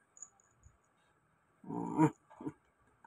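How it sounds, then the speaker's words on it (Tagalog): A pet dog named Loli, angry at being told not to climb, gives a short burst of growling and yelping close by, followed by a smaller second outburst, with faint low sounds earlier. "Ito pong alaga akong aso ano."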